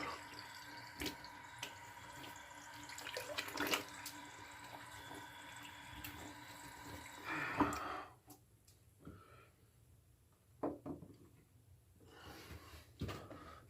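Running water from a bathroom tap splashes steadily as a face is rinsed after shaving, then the flow stops, leaving scattered drips and small splashes close by.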